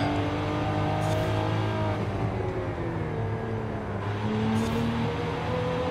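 A 2022 Cadillac CT4-V Blackwing in Forza Horizon 5 holds a steady, loud engine drone with shifting harmonic pitch while cornering and oversteering in third gear, continuous throughout with no speech.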